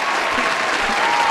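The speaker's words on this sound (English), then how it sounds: "Clap it up for Isaac for finally getting the video done" Applause in a podcast studio: a short, dense burst of clapping from a small group, close and steady for a little over a second, with no speech over it.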